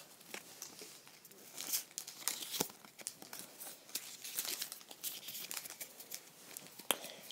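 Foil wrapper of a Pokémon trading card booster pack being torn open by hand, a close crinkly run of ripping and crackling lasting several seconds with sharp snaps near the end, no talking.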